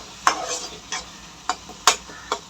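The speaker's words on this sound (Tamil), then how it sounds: "நல்லா பச்சை வாசனை போகிற அளவுக்கு நல்ல மசாலாவை வதக்குங்க" Masala for stingray fish curry being sautéed in a pan, with soft sizzling and a series of sharp scraping stirs at irregular intervals, close and moderately loud.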